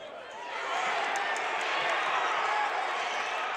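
A wrestling arena crowd at a Big Ten match swells into a broad, steady roar of cheering that rises within the first second and holds at full volume.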